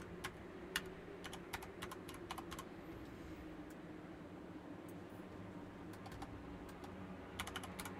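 A computer keyboard clatters in quiet bursts of rapid key taps during a session of Total War: Warhammer 3, with pauses between clusters over a low steady fan or room hum.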